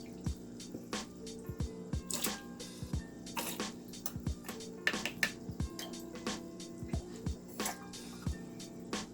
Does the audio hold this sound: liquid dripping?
yes